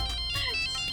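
A mobile phone ringtone plays steadily for about a second, a bright, tonal repeating melody that sounds close and fairly loud, with a faint murmur in the background.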